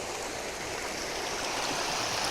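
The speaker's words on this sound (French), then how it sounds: "petit ruisseau" A small stream flows steadily through a high-altitude Andean village in northern Chile, a constant close wash of running water with no voices.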